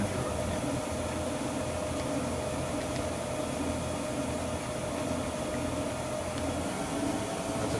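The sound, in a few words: Bridgeport Romi EZ Path lathe spindle running at 800 RPM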